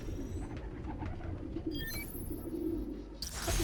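Park pigeons coo softly in the Spider-Man: Miles Morales video game, low throaty calls repeating under a constant ambient hum, with a brief bright electronic chime partway through and a rise in noise at the end.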